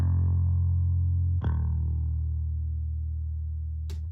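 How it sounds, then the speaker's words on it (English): A deep bass guitar drones with heavy distortion and effects, struck twice with a sharp attack each time, loud and sustained. "Under all of this, I have a bass guitar that sounds like this."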